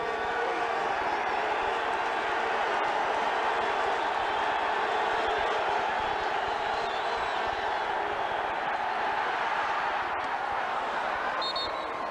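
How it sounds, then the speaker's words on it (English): At a 1988 CFL game between the Edmonton Eskimos and the Winnipeg Blue Bombers, a stadium crowd keeps up a loud, steady roar of hollering and cheering that fills the whole stretch. "But here goes the crowd. Watch him start hollering."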